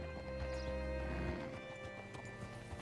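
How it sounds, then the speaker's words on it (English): Red Dead Redemption 2 horse hooves clop in a steady rhythm beneath a low droning hum, with a brief whinny as the horse is hitched, fairly quiet overall. "Hitch your horse up here."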